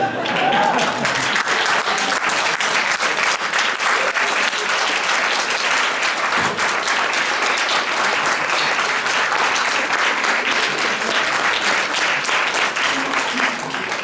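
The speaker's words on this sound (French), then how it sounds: "Je vous propose une standing ovation à David Alperin" A standing ovation for David Alperin fills the room with loud, steady applause from a large audience, holding evenly without a break.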